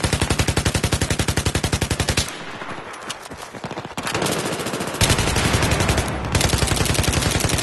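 FAMAS rifle fitted with a heavy barrel firing in Battlefield: loud, close, rapid automatic bursts with a dense even rhythm, a brief pause, then further sustained volleys.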